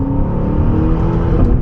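An Aston Martin SUV accelerates hard, its engine a loud, steady, rising roar heard from close by, alone with no talking.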